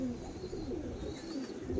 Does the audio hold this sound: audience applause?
no